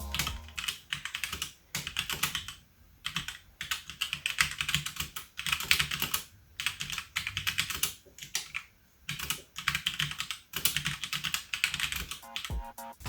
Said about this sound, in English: these tactile switches are definitely not the most loudest, so I just want to give you guys an idea and also just see sort of how I type